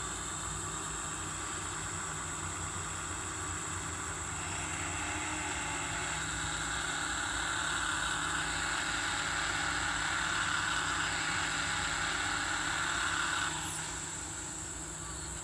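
A Duramax diesel pickup engine in the Pulling USA 2 truck-pulling game, a steady droning rumble with a hiss that swells slightly in the middle and then eases off near the end.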